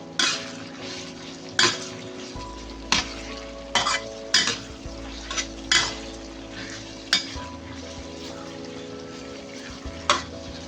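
Softened onion and dried chili fry in hot oil for Indian-style white beehoon noodles, a steady close sizzle punctuated by regular spatula scrapes and knocks against the pan roughly every second, with no talking.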